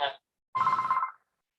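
A phone rings once during a school building committee meeting, giving a single warbling electronic ring of about half a second after a brief bit of voice, clear and fairly close in an otherwise quiet room.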